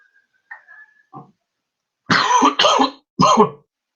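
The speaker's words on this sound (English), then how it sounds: "Excuse the cough, guys." A few soft throat sounds, then three loud harsh coughs in quick succession, close up.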